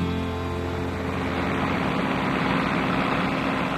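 A tractor running steadily alongside a Mudcat dredge that pumps dense material, its engine a continuous broadband rumble with a low harmonic hum, loud and unbroken throughout.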